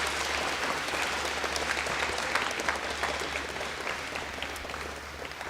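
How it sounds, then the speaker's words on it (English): A live debate audience applauds the gubernatorial campaign candidates, with steady, dense clapping that holds evenly throughout at moderate loudness and no voices on top. "Let's give them a good round of applause."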